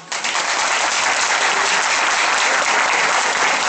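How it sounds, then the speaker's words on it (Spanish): An audience at a cultural event bursts into loud, sustained applause that stays dense and even from start to finish. "¡Fuertes los aplausos!"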